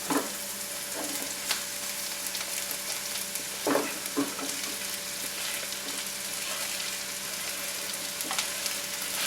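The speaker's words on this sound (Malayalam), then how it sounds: "നമുക്കിനി ഈ പാവയ്ക്ക അങ്ങ് ഇട്ട് കൊടുക്കാം" Sliced bitter gourd and green chilies fry in an oiled pan for a Kerala-style stir-fry, giving a soft, steady sizzle with occasional spatula clinks and scrapes, no one speaking.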